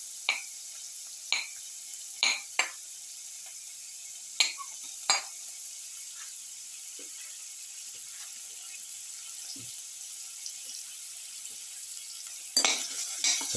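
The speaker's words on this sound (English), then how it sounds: "Put in the onion pieces." Onion pieces fry in a pan of hot oil with a steady quiet sizzle, punctuated by several sharp clinks and scrapes of a utensil stirring against the pan.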